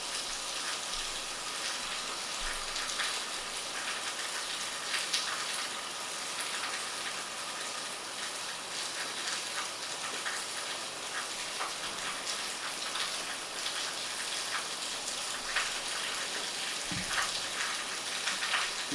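Heavy rain pours steadily for the whole stretch, a dense, loud, unbroken hiss with no talking, heard during a live PC troubleshooting stream.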